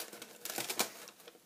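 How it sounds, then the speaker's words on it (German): Paper being crinkled and pressed down with adhesive tape onto a cardboard box while a pinhole camera is built, giving soft rustling and crackling in short bursts, close and fairly quiet. "Anschließend nehmt ihr euren Klebestreifen und befestigt erstmal das Papier hier grob."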